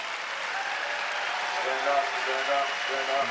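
Stadium crowd applauding at the Prefontaine Classic athletics meet after the men's shot put, a steady wash of clapping throughout with a voice speaking over it.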